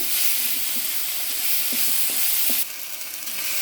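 Tomato frying in a pan for okra curry, a continuous bright sizzle with a few light stirring clicks, the hiss easing slightly toward the end.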